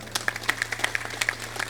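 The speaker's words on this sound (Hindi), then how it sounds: "इनके लिए एक बार ताली बजा दो" A small audience at a gathering gives sparse, uneven clapping: a few distinct hand claps scattered over under two seconds, with a low electrical hum underneath and no talk.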